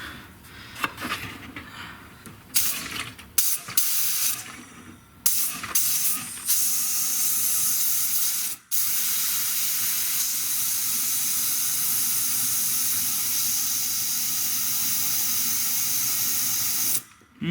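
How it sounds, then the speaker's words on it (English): A compressed-air hose blows out an automotive transmission cooler at home. After a few seconds of scattered clunks and bursts, a loud, steady, close hiss runs unbroken for about ten seconds, then cuts off. "I'm going to start off by using the air hose again"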